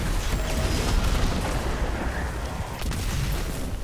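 Grenade blasts in the video game Destiny 2 rumble in a dense, continuous barrage of booming explosions and gunfire, loud and close throughout, with no voices over the top.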